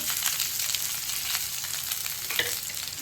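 Two cut onions frying in hot oil in a pan for a bitter gourd tamarind curry, a steady close sizzle with soft stirring scrapes throughout and no talking.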